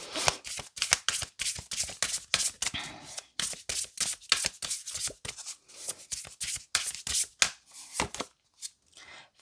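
Oracle cards being shuffled by hand in a steady rhythm of crisp riffling flutters, close and moderately loud, with a few brief pauses near the end and no talk.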